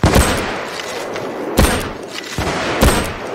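Three loud gunshots in the heist game Payday 2, about 1.5 seconds apart, each a sharp blast that rings out briefly, with no talk over them.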